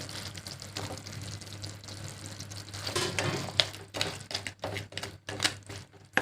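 Fried fish being stirred into boiling vinegar for a fish pickle gives soft sizzling and bubbling, with a few sharp utensil clicks and scrapes near the end, close and fairly quiet.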